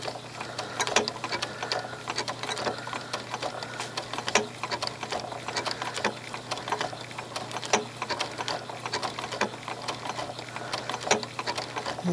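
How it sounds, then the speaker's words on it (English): A sewing machine stitches quilt binding with a steady, rapid rhythmic clicking and ticking, close and continuous throughout with no talk. "if you hear that little click as I'm stitching, rhythm click right there, that is the sound the machine makes"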